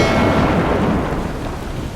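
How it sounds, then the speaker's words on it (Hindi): A heavy night thunderstorm: a loud, continuous roar of pouring rain mixed with rolling thunder, steady and close, with no voices. "बादल गरजने की आवाज जानवरों तक को डराए दे रही थी"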